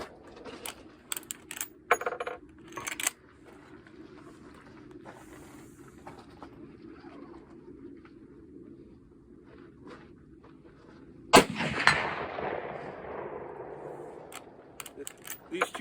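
A Marlin 336 chambered in .35 Remington, loaded with 200-grain slugs, fires one loud, sharp shot at a steel target 120 yards out, about two-thirds through. Quieter rustling and voices come before it, and the report decays slowly.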